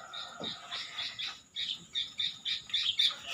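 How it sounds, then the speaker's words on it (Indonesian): An owl gives a run of short, repeated raspy squawking calls, close and fairly quiet, each burst pulsing in a loose rhythm. "ini termasuk burung hantu yang dilindungi"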